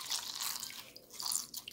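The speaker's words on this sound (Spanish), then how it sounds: "me voy a poner la siguiente esponjita con agua limpia" A wet sponge with clean water squishes and drips against the face during makeup removal and facial cleansing, soft close-up wet crackles and drips in a quiet room.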